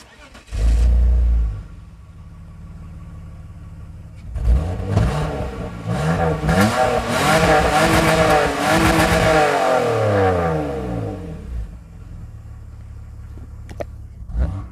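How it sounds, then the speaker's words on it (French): A BMW E46 engine starts with a loud low burst, then revs up and down repeatedly, rising to a roaring whine before settling back to idle. "Sandra, tu nous fais écouter le son moteur ?"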